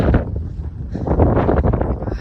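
Wind gusts buffet the microphone on a hilltop ridge during a climb: a loud, steady low rumbling roar that swells into stronger gusts midway and continues to the end.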